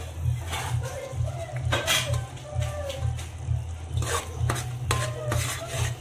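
A spoon stirs and mixes chicken biryani ingredients in a pot, with soft rhythmic scraping and clinks against the metal over a low, steady hum.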